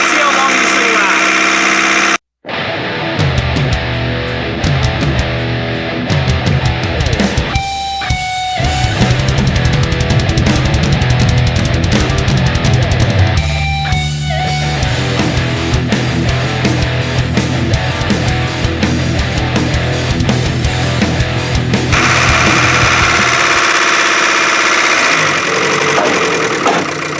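A Chevy Aveo engine running with no oil, a loud continuous mechanical roar with knocking and revving that changes pitch, briefly cutting out near the start and dropping toward the end.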